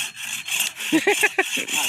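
A hand saw cuts through a neem tree in quick, rhythmic back-and-forth strokes, close and loud, with faint talk in the background.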